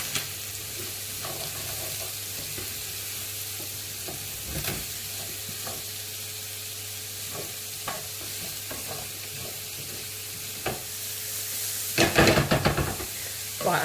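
Onions fry in a pan on lowered heat, a steady soft sizzle and hiss running throughout, with occasional knocks and scrapes of a wooden spoon stirring and a louder clatter near the end.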